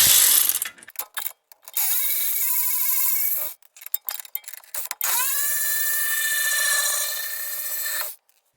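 A ratchet spins off the E18 strut knuckle bolt and 21 mm nut on a Mercedes GLK X204 front end, making long steady whirring ratchet runs broken by short clicky bursts, close and loud, no voices.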